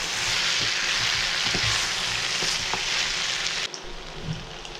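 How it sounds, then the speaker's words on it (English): Mutton dry roasts in a pan with a loud, dense hiss of frying, broken by a few light stirring knocks, before the sizzle suddenly drops to a quieter level near the end. "giving a dry roast to it"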